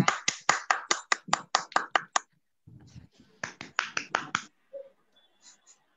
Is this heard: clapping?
yes